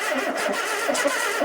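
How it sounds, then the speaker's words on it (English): A barn-find Ford Capri Mk1 in London, bridged to crank with plugs in and no fuel, turning over in a brief, rapid rhythmic chug close by. "I still can't get it to turn over on the key, but I'll just bridge it again."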